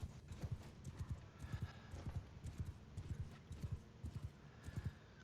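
Cavalry horses gallop through a video game battle, their hooves clattering in quick, continuous clip-clop rhythm, close and fairly loud with no voices over them.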